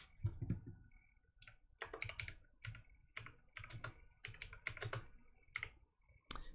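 Typing on a computer keyboard while setting up game debug keys: uneven bursts of quick, close key clicks with brief pauses between runs, faint and dry, with no voice over them.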